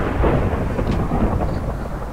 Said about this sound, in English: That's a very sinister lightning.